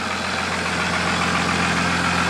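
A high-mileage Cummins diesel truck engine runs steadily after a cold start at -90°F, a loud, continuous, close idle rumble with no variation.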